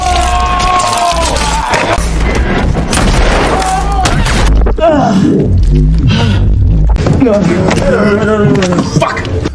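Loud bursts of gunfire and booms from the film Smile 2 (2024) soundtrack, with shouting and gasps in between and a dense, chaotic mix throughout.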